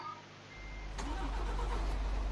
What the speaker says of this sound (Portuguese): Vamos lá, ligar aqui o caminhão.